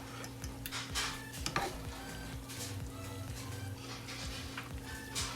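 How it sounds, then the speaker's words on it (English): Noodles being stirred in a pan with steady scraping and soft sizzling, a continuous close texture with light utensil ticks against the metal throughout. "Alright, so we need to stir all these in."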